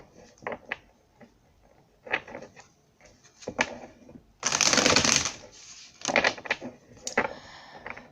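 Oracle cards get shuffled by hand in quick irregular riffles and slides, with one longer dense burst of flicking cards in the middle and soft taps between.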